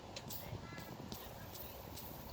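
A faint, gritty rattling and clicking from a worn bearing as it turns, a rough uneven noise that repeats every half second or so.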